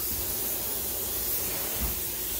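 A quick-change airbrush sprays paint in a continuous, even hiss, close and unbroken, with no voices.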